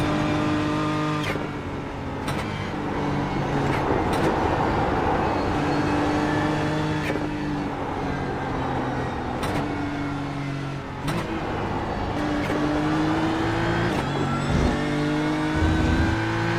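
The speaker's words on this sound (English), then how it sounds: "Let y'all listen to the engines for a second." Race car engines in an endurance series roar loudly and continuously as a car works through the esses, the revs climbing and dropping with repeated downshifts and gear changes.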